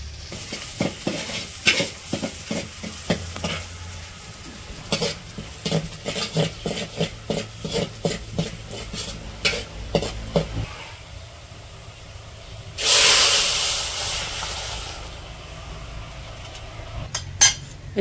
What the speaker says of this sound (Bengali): ডাল বাগার দিব, রসুন আর পেঁয়াজ দিয়ে দিল